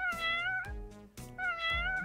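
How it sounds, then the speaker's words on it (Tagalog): Two clear, close meows from a cat, each a drawn-out, rising-and-falling cry, with a brief gap between them and no voices present. "Maaari rin tayong makarinig ng mga mahihinang tunog gaya ng ingaw ng pusa"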